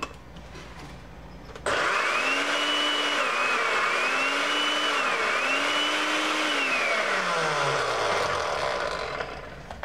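Countertop blender grinding peanuts with coarse sea salt and no water for peanut salsa: after a quiet start it kicks in as a loud, steady motor whine, the pitch sagging and recovering as it labors, then winding down at the end.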